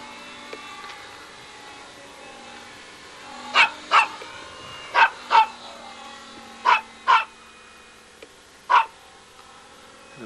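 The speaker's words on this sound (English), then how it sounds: "It makes a dog noise." A dog barks in short sharp pairs, about seven barks spread over several seconds, near and clear over a quiet background hum during an outdoor flight of a Simitar radio-control model aircraft with a geared Cobalt 15 electric motor.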